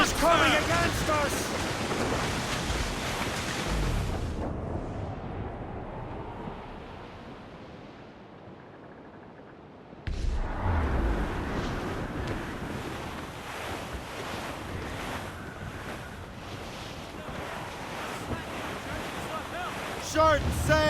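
Squall wind and crashing ocean waves at sea in Assassin's Creed Rogue, a loud, rushing roar that drops away briefly and then surges back, with shouted voices faintly mixed in.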